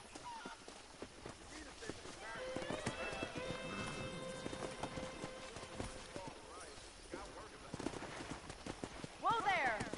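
Horse hooves clip-clop and run in a Red Dead Redemption wrangling scene, a steady galloping patter across the clip with a horse whinny near the end, mixed under game music and character speech.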